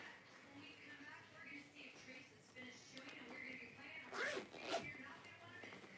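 A zipper on a handbag's interior zip pocket is pulled in two quick, close rasping runs near the end, following quiet talk.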